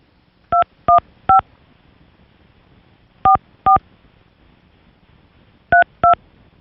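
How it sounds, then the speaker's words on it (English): A telephone number is keyed in as crisp DTMF tones, seven short beeps in three quick groups, loud and close over a quiet background. "I think I have to dial 1 and then"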